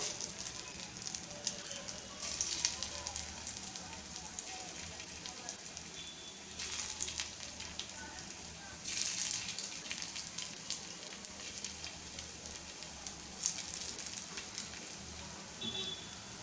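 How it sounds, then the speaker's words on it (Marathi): Crispy coriander fritters (kothimbir vadi) frying in hot oil, giving a faint, steady crackling sizzle with brief louder bursts of popping. "या प्रकारे आपण सर्व वड्या फ्राय करून घेऊया."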